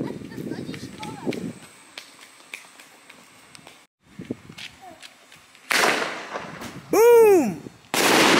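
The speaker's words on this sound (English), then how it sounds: "So let's see how these fireworks go." Canada Day fireworks going off outdoors: a loud crackling burst, then a rising whistling shell followed by another sharp blast, after quieter scattered pops and movement.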